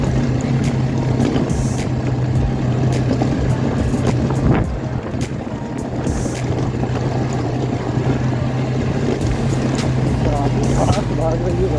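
Onboard sound of a BMW G310R motorcycle being ridden, with a steady engine drone and heavy wind rush throughout, while a rider talks over it.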